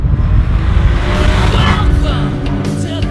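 A 24-year-old Ferrari 550 Maranello engine roars loud and close with a steady throaty rumble, and a brief higher screech near the end.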